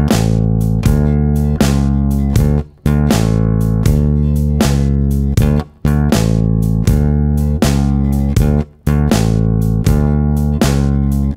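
A shuffling bass line rolls through a 12-bar blues turnaround with a steady drum groove, loud and continuous, with brief breaks between repeated phrases.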